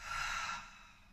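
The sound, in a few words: breathing in through the nose, exhaling through the mouth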